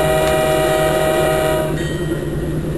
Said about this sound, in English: I'm going to be blowing the horn.